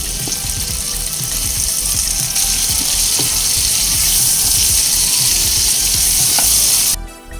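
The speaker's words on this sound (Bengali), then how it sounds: "মিডিয়াম ফ্লেমে নেড়ে চেড়ে আলুগুলো হালকা লালচে রং ধরে আসা পর্যন্ত ভেজে নেব" Potato pieces with salt and turmeric sizzle loudly in hot oil over a medium flame, a constant close crackle with soft scrapes and clinks from stirring.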